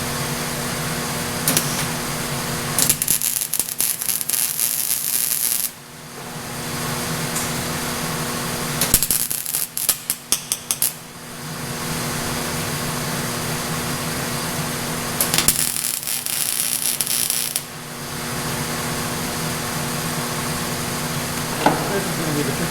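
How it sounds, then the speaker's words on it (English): Butt welding on a sprayer part produces a steady electric hiss and crackle that starts and stops in three long bursts, close and loud over a constant background hum. "I'm gonna flip it over and get butt welding this thing."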